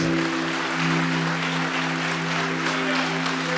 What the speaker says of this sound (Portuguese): Stop what you're doing now and give Jesus applause for who he is.